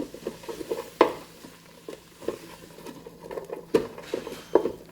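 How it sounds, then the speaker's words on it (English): Seasoned vegetables with thyme being stirred around in a Ninja Speedi pot, giving soft scraping patters and a few sharper clinks of the utensil against the pot at irregular moments, fairly quiet with no talk. "We're just going to stir that all around."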